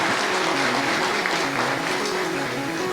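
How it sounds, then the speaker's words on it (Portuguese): A seated audience at a business talk on fleet and mobility management gives a steady, dense round of applause that fills the room without a break for several seconds. "Mais uma salva de palmas."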